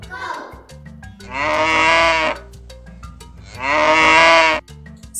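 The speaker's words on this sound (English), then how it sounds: "Cow." A cow gives two long, loud, drawn-out moos, each lasting about a second and a half, separated by a short pause with faint background sound.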